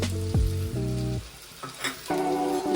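Curd and pointed gourd sizzle steadily in a frying pan as they are slowly stirred, a close, continuous crackling hiss with soft scraping of the spatula and no talk.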